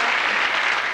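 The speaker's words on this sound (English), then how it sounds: "Team, give them a clap." A studio audience at the Big Break snooker game show applauds, a dense, steady burst of clapping lasting about a second with no voices over it.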